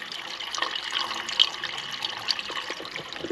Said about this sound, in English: water's flowing really well